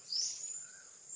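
A single thin, high bird call sweeps up and then holds steady, faint and somewhat distant against a quiet background.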